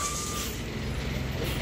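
A Sinar Jaya Executive Legres bus arriving at a terminal, with a continuous engine rumble, a hiss of air brakes and steady reversing beeps running throughout the short stretch.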